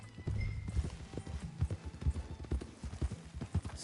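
Horse hooves clip-clop at a steady trot in Red Dead Redemption 2, a quiet, even, rhythmic clatter with no one speaking over it.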